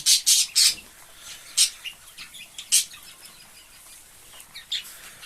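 A mixed flock of old Polish breed chickens gives short, sharp calls in irregular bursts, several loud ones close by, with quieter chatter and possible wing flaps between them and no talking.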